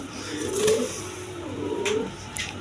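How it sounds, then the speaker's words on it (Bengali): High-flying Giribaz pigeons coo in two soft, drawn-out calls close by, over a steady background hum with faint traffic. "এগুলো হাই ফ্লাইং গিরিবাস কবুতর"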